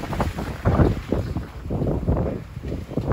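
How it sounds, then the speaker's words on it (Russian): Strong wind buffets the microphone in heavy, rumbling gusts that swell and ease, loud and close throughout. "ух ты, ветер какой"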